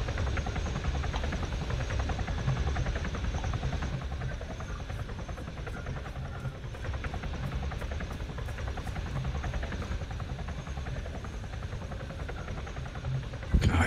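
Continuous helicopter drone in a video game, a steady low whirring rumble with rapid rotor chop that holds at a constant level throughout.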